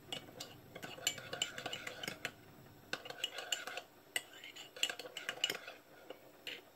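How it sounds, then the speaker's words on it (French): A spoon scrapes and clinks against a bowl while bread dough ingredients with baker's yeast are stirred together for a chicken-stuffed braided loaf, in a quiet, steady run of close clatter. "Nous allons bien mélanger"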